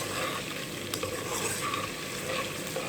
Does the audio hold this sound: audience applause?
no